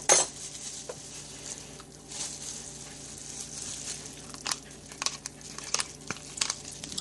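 A spoon stirring yogurt into a fluid hot-process soap mixture, soft scraping with scattered light clinks and taps against the container, fairly quiet and close, no talking.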